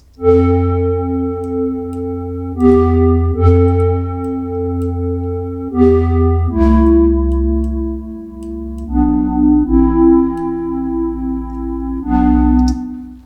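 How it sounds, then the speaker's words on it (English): A synth oscillator with its pitch modulated by an LFO plays a sequence of sustained bass notes with bright harmonics, each note's pitch bending and wobbling slightly, in a slow steady rhythm with no voices. "What I'm doing here is I'm macroing a LFO to the pitch of an oscillator."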